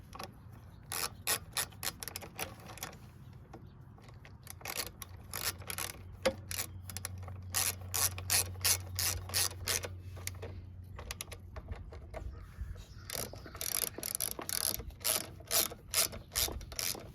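Repeated clicking ratchet strokes tighten the carburetor bolts on a Briggs & Stratton 775EX series engine, steady close bursts with short pauses and a brief low hum in the middle.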